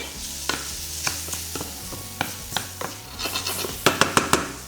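Mushrooms sizzle in a hot pan while a utensil scrapes and stirs them in a quick, uneven rhythm, close by.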